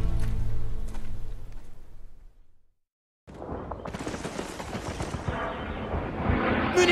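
Call of Duty 3 battle at Chambois: heavy gunfire and explosions rumble loudly, cut to a brief silence, then resume in dense overlapping shots with rising intensity.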